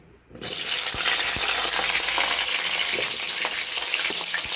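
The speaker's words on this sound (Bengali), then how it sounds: "কড়াইতে দিলাম কেটে ধুয়ে রাখা পটল" Cut pointed gourd goes into hot mustard oil in a wok. After a brief quiet start it bursts into loud, steady, crackling frying, with scattered small pops and clicks throughout.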